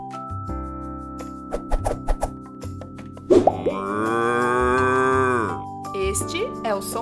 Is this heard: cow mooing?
yes